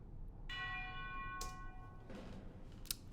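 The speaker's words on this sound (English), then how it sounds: "I think there's a tubular bell here." Tubular bell struck within a heavy video game music track, a clear ringing tone with long sustained overtones, followed by a second fainter hit and a bright metallic tick near the end, at low overall level.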